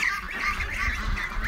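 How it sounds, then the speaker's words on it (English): A goose honks over and over, close and fairly loud, with repeated nasal calls filling the whole moment and no one speaking. "And there's this goose tickling the back of my leg."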